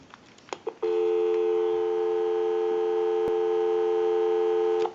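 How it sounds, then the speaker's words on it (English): A steady, continuous dial tone on a Western Electric 302 rotary desk telephone line starts after a few faint clicks and holds level to the end, cut by one brief click near the middle. "We'll go ahead and give you some dial tone."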